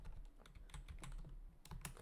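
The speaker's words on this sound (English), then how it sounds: "I feel like I can type without looking" Fingers type on a computer keyboard in a steady run of quick, light key clicks, close and faint, with no talking.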